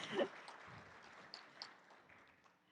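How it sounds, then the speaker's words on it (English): Audience applause at a semi-annual members' meeting, a brief burst of clapping that quickly thins and fades into scattered claps and room noise. "Give them a round of applause"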